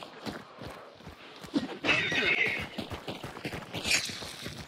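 A horse whinnies loudly twice over a steady clip-clop of hooves, close and clear in a Hunt: Showdown swamp soundscape.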